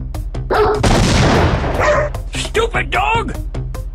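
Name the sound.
dog barking in video game Identity V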